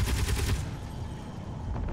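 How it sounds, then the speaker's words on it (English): Rapid gunfire from an aircraft's guns in a combat video game: a dense, loud burst of shots in the first half-second, then a fainter, rumbling stretch of continued fire and engine noise. "Oh, yep, my guns are working."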